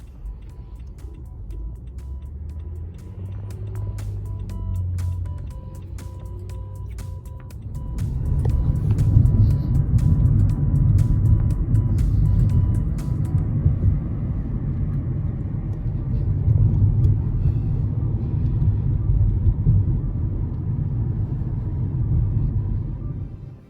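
Car rolling along an LA freeway in traffic, a steady low road rumble that swells after a few seconds and holds, heard from inside with no talking.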